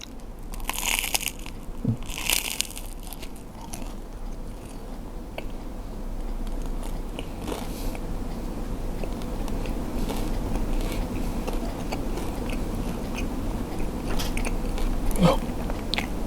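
Crunchy biting and chewing of food spread with Vegemite, a salty Australian yeast spread, with loud crisp bites early on followed by steady close chewing throughout.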